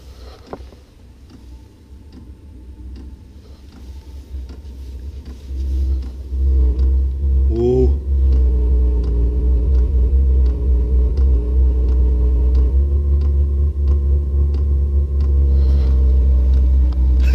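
A 12V diesel heater starts up and settles into running, a low rumbling roar that swells after a few seconds and holds steady, with faint rhythmic ticking from the fuel pump.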